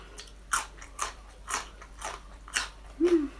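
Fresh raw vegetables are crunched in a series of sharp, close bites and chews, about six crisp crunches at an even pace, with no talking.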